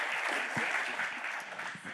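An audience at a panel discussion on economic reconciliation claps for Harlan; short, moderately faint applause from a seated room, even and continuous without talk.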